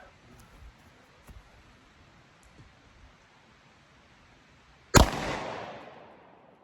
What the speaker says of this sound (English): we'll be shooting that out of a Gen 5 Glock 19